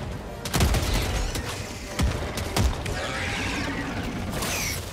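Rapid gunfire crackles in the bug-hunting video game Bozz and Thew Squash Bugs, with several sharp shots in quick bursts over a constant mechanical game backdrop.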